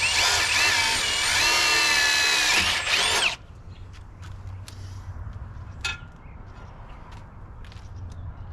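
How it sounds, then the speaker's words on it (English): A power drill bores a pilot hole, a loud, close whining drone for about three seconds that stops abruptly, followed by quiet room noise with a few faint clicks and knocks. "So I'm pilot drilling it first."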